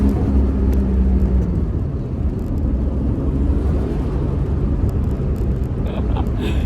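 A Holden VL turbo race car with a manual five-speed gearbox, heard from inside while driving: a loud, continuous low engine rumble and drone that holds steady throughout.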